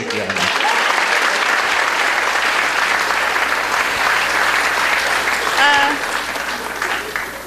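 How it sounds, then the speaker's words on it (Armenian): A studio audience at a comedy show claps for Shushik, loud sustained applause filling the room at a steady level before tapering slightly at the end, with a brief voice near the close. "մի հատ ծափահար եք Շուշիկի համար"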